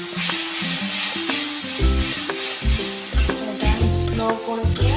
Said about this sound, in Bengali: স্লো করে মশলাটা কষবো।